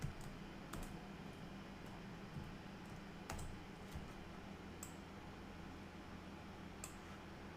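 Quiet keystrokes on a computer keyboard while entering code, scattered sharp clicks spread across several seconds over a low steady background hum, with no talking.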